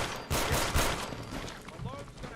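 Pistol shots from Fallout 4 fire in quick succession, loud and close, with broad blasts over a busy game mix, and a voice talking under and between them.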